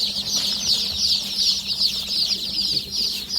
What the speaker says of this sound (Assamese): আপোনালোকৰ কাৰণে ইয়াতে দেখাই দিয়া 200 লোকেল মুৰ্গী আনিছোঁ